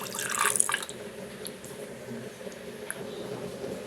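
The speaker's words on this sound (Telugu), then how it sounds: "వాటర్ వేద్దాం" Water is poured over pieces of country chicken, a brief splashing burst near the start that settles into faint trickling and dripping, with no talk.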